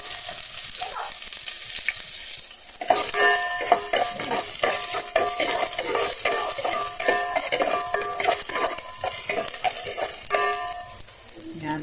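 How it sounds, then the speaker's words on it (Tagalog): Onion and garlic sauté in a hot pan for pork sinigang, a loud continuous sizzle with stirring scrapes and clinks joining partway through. "Gisa muna natin yung ating mga rekado."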